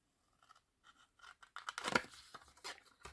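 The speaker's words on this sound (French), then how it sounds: "Prenez une paire de ciseaux." Scissors snipping paper for a rotating pop-up card, a quiet close series of short crisp cuts and rustles that grows busier and louder toward the middle, then trails off in scattered snips.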